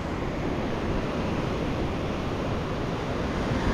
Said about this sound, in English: So you can see today the waves are not that big.